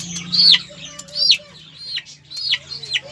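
Aseel chicken chicks peep in high, downward-sliding chirps, about five calls spaced through three seconds, close and fairly clear over a low background hum.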